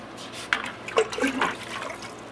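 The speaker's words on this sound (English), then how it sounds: "I'll take a little bit of water out" Water sloshes and splashes briefly as it is poured out of a Bulk Reef Supply phosphate reactor holding old GFO media, a short close burst of liquid with no talking.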